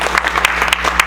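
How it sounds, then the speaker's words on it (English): A brief burst of dense clapping from an audience at a university lecture on Alzheimer's disease, steady and fairly loud, with no voices over it. "let's give him a round of applause."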